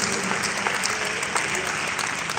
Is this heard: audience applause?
yes